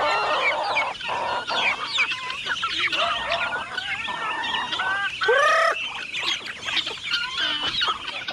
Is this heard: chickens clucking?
yes